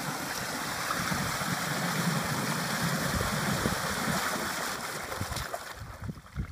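Water draining from a wetland drainage structure into a creek in Louisiana, a steady close rush of flowing water that carries on without a break and eases slightly near the end.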